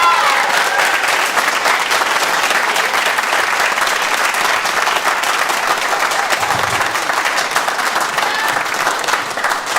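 Sustained, dense applause from a graduation ceremony audience, loud and steady throughout with a faint murmur of voices beneath the clapping.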